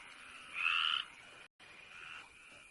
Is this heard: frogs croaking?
yes